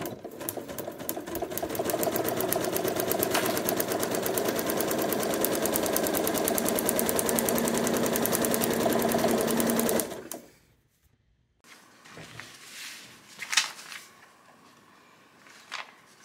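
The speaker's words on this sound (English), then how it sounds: "I'm going to sew from outside the outer line down this line to the outside of this line" A sewing machine stitches a quilt seam for about ten seconds in a loud, steady, rapid whir, then stops abruptly, leaving faint handling noises and a couple of soft knocks.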